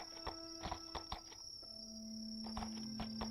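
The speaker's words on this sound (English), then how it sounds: "The cicadas are finally coming out." Cicadas in the VRChat game world give a thin, steady high buzz that runs continuously beneath faint footsteps and soft ambient tones at low volume.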